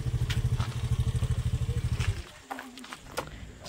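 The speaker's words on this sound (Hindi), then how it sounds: "हम लोग अपनी बाइक स्टैंड करने वाले हैं" A motorcycle engine idles with a rapid close thumping putter for about two seconds, then cuts off, followed by clunks and scrapes as the bike is set on its stand near Lohagarh Fort.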